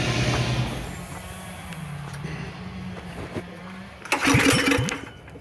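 A shifter kart engine is pulled over at night, with low sputtering turnover and cranking before it catches in a sudden loud, rough burst of revving, close by.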